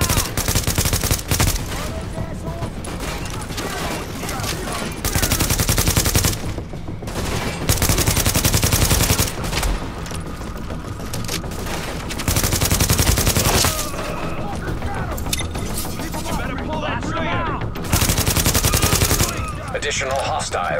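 Continuous gunfire from The Division, set around a Times Square power relay: rapid automatic bursts and loud overlapping shots, with heavier volleys rising and falling across the stretch.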